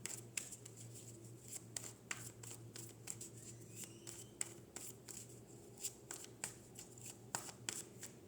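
Tarot cards shuffled by hand, a quick series of crisp riffling snaps and slaps repeating steadily at close range in a quiet room.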